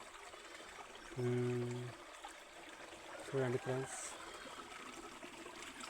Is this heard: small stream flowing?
yes